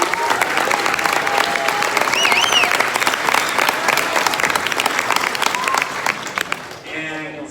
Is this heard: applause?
yes